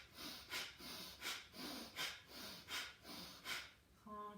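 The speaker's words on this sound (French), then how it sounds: "On inspire." Deep, slow breaths during a yoga exercise, with about seven steady inhale-exhale cycles, close and soft, ending with a faint tonal sound.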